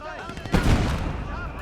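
Mortar fire in the game Legion of the Damned lands as a heavy, booming blast that rolls on for a moment amid distant battle noise, with a voice talking over it.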